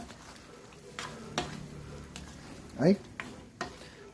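Chicken afritada sauce is stirred in a pan while it sizzles softly, with a few utensil scrapes and clinks against the pan. Someone speaks briefly over it.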